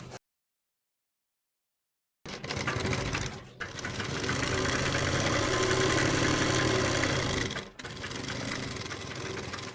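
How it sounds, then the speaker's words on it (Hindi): Sewing machine stitching a fabric seam on salwar trouser legs, a steady close mechanical whir and rapid needle chatter running in two long bursts after a brief silence, with short pauses between runs. "तो हमने यहाँ से पैर की सिलाई लगानी है।"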